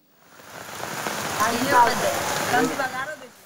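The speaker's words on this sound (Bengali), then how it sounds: "সুনামগঞ্জে থামছেই না বৃষ্টি" Steady heavy rain pours down in Sunamganj, Bangladesh, with a news reporter's voice talking over the hiss of falling water throughout.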